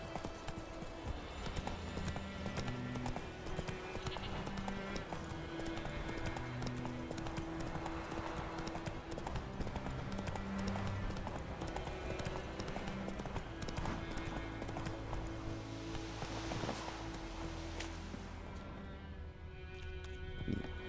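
A horse gallops in The Witcher 3, steady rhythmic hoofbeats clopping close and loud over game music for the whole stretch, fading out at the very end.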